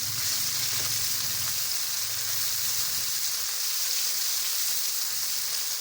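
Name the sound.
onions frying in oil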